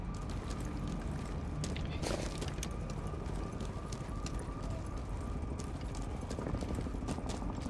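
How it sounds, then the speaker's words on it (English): Footsteps in the video game Rainbow Six Siege, coming from the ground level below, thud in a steady rhythm under a dense, constant wash of game ambience with scattered sharp clicks. "I'm hearing footsteps under you, so they're on ground level."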